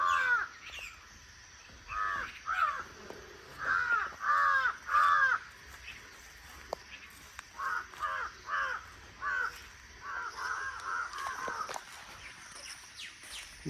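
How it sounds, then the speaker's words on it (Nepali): Crows caw in a tree in a rural village, harsh repeated calls arriving in bursts of several caws with short pauses between, moderately near and clear against quiet background. "यहाँ रुखमा चाहिँ काग कराएको सर्प आएछ कि के आएछ कि भनेर हेर्न आएको त"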